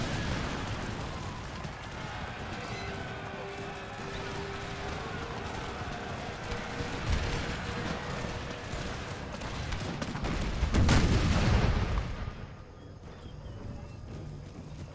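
Ragged musket volleys and booming artillery from a Napoleonic-era battle in Empire: Total War with the Empire 2 mod, a dense rumble of distant shots building to a heavy burst near the end before fading.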